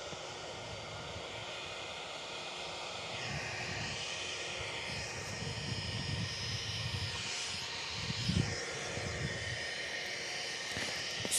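An Airbus A320 jet taxis at Perth Airport, giving a steady, moderately distant engine whine and low rumble with slowly shifting tones and no talk.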